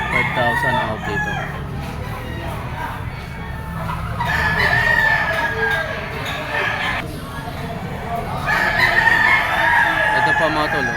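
A Golden Boy sweater gamecock with yellow legs crows loudly and close by at a rooster farm in Lipa, Batangas, calling twice with long drawn-out cries over other birds clucking and someone talking in the background.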